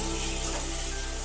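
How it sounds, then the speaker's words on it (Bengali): Potatoes coated in salt and turmeric dropped into hot oil, giving a continuous close, loud sizzle and crackle with no pauses. "এইবার তেল গরম হয়ে গেছে, আমি কি করব, এই তেলের মধ্যে আলুগুলো দিয়ে দিলাম।"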